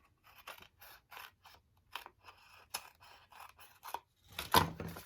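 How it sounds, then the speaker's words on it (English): Paper snips make a series of crisp, close snipping cuts along a diagonal edge of cardstock, arriving in irregular short bursts with quiet pauses and a louder final snap, with no speech. "I'm going to take my paper snips and just cut along that diagonal edge with my paper snips."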